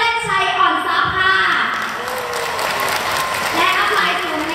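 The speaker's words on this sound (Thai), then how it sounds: "ขอเสียงปรบมือแรงๆ" An audience at a business success event breaks into sustained loud applause, a dense steady wash of clapping that fills the room from start to finish, with a voice faintly audible beneath it.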